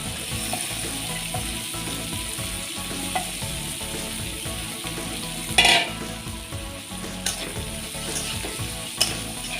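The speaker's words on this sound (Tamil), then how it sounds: "3 மீடியம் சைஸ் ஆனியன் கட் பண்ணி வச்சுருக்கேன். அதை ஆட் பண்ணி ஃப்ரை பண்ணிக்கலாம்" Three medium chopped onions fry with spices in a pan for paneer butter masala, giving a constant loud sizzle with occasional spatula scrapes and clanks against the pan.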